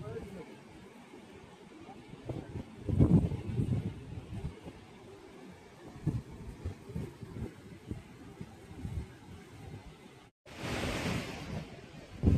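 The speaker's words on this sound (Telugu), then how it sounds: "ఇక్కడ ఒక వాటర్ ఫాల్," A mountain waterfall near Sheshnag Lake on the Amarnath Yatra route gives a steady rushing roar mixed with wind. Voices talk over it, and the sound cuts out briefly before resuming louder.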